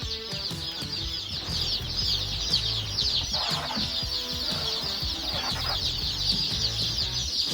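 Many chicks in a brooder peep continuously in a high chorus, close by, with soft rustling and clucking underneath.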